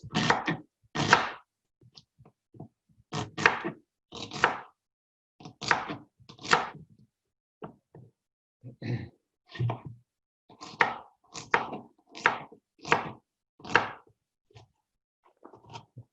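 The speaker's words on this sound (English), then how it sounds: "I cut it, just leaving a little bit of onion at the end so that it's still in one piece" An onion sliced with a knife on a board, a steady run of crisp, close chopping thuds spaced about half a second to a second apart, with no talk.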